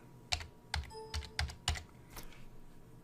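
Fingers tap out a short string on a computer keyboard, six crisp, close keystrokes spread unevenly over a couple of seconds in a quiet room, with no talking.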